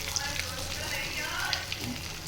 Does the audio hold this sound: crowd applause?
no